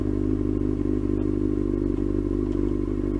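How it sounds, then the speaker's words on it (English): A 2000 first-generation Yamaha R6 sport bike rides along in Southern California, its engine giving a steady, loud, close drone with faint clatter and wind throughout. "riding a first generation R6"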